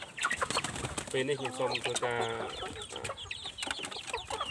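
Chickens cluck and call on a poultry farm, with one drawn-out tonal call standing out in the middle, while someone talks over them at fairly close range.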